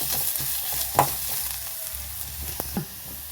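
Garlic sizzles in a pan for Mangaluru-style chicken pulimunchi, a steady soft frying hiss broken by a few sharp clinks and scrapes of stirring.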